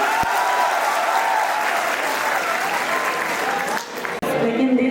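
Audience applause at a live Hindi poetry recital, a kavi sammelan, a dense sustained wash of clapping that fills the whole stretch, dipping briefly near the end before swelling again.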